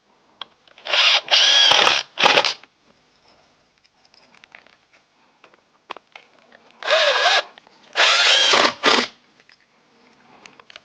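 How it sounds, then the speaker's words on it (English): A power drill drives drywall screws into a 2x4 in a basement: two pairs of loud, close whirring bursts, each about a second long, separated by near-silent gaps with faint handling noises. "And I'll be attaching this with screws. I'm just using your regular drywall screws for this process."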